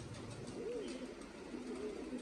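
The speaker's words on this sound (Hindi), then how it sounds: "ये कबूतर सारे घर के ही हैं जी," Home-bred Kamagar and Golden mix breeder pigeons coo softly in a loft, two low rolling coos close by over a faint background hiss.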